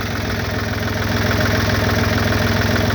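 A tractor engine idles steadily and close by, with a low, even rhythmic throb and a mechanical rattle running without a break and no talk over it.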